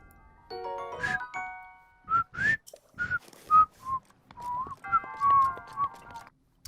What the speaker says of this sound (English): Just whistling with no intent, no melody.